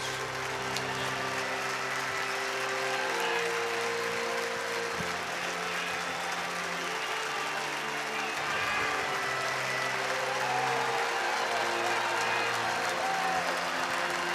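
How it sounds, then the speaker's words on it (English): Crowd at a College World Series baseball game between North Carolina and West Virginia applauds a departing pitcher, a steady wash of clapping and cheering layered over constant stadium hum and music-like tones, with no break. "He should get a loud round of applause."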